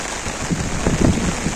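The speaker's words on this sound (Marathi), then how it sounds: "खूपच जोराचा आहे पाऊस खूप जोराचा आहे" Heavy rain pours down at Bhimashankar in a steady, dense roar, drumming hard on a surface with no voices.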